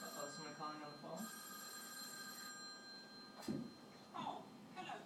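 A toy telephone bell rings in short repeated bursts, close by, under a child's and an adult's voices talking.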